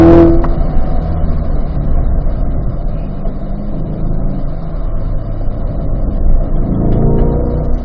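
A car's engine drones steadily as it drives a race track at the Ron Fellows Performance Driving School, building power out of a corner, loud and close throughout with no talk.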